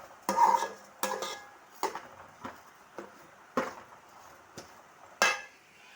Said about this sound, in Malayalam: അരിയൊന്ന് നല്ലോണം മൂക്കണം.